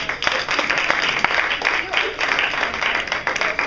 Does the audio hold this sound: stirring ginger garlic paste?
no